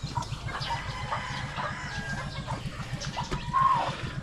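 Chickens cluck softly and repeatedly around a backyard flock's water dish, with a rhythmic low clucking close by and faint bird calls in the background.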